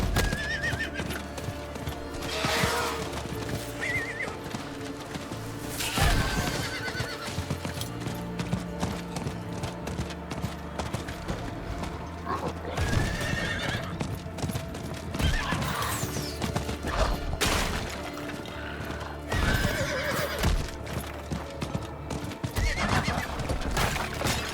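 A horse in the video game Diablo 4 neighs and whinnies while its hooves clip-clop in a steady gait, loud and close over ambient game sound and occasional crashes.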